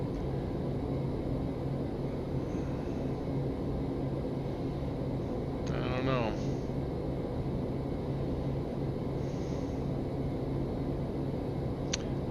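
Steady broadband drone of a TBM900 turboprop cabin in flight in the X-Plane 11 simulator, constant and unbroken, with a brief muttered voice partway through.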